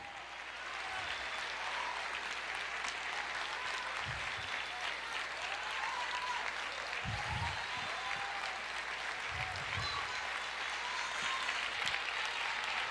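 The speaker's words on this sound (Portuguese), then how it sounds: "Pode aplaudir" Audience applause in a church service, a steady dense wash of clapping that continues throughout with a few louder thumps and some faint voices underneath.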